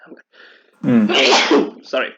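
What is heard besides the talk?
sneeze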